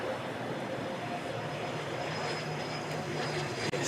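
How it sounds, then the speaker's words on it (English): A steady, distant drone from the SAAB 340B hybrid aircraft at the Farnborough International Airshow, an even engine hum with no voices. "it's time for GE Aerospace and Beta Technologies with the SAAB 340B hybrid aircraft"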